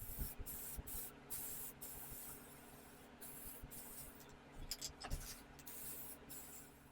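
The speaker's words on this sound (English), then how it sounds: "Move the fan and then we can spray paint the rest of it." Spray paint hisses from an aerosol can onto a thrifted home decor piece in short repeated bursts, with a quiet fan humming in the background.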